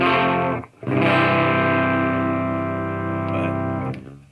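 Electric guitar through a DOD Boneshaker distortion pedal on a low, mild overdrive setting, playing sustained chords that ring loud and alone, with a brief gap near the start.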